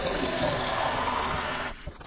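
Cold tap water pours steadily into the water tank of a De'Longhi Magnifica Start coffee machine, a continuous close splashing fill that stops abruptly near the end, followed by a brief clunk.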